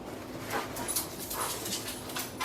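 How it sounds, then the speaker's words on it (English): Dogs scuffle indoors with yips, whimpers and scrabbling claws sliding on a floor, fairly close and moderately loud in short irregular bursts, no talking. "Pardon my dogs fighting in the background."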